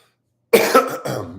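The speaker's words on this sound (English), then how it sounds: "So I'm going to cough for a second." A person with the tail end of a cold gives a short, close cough followed by a rough clearing of the throat, loud and alone against silence.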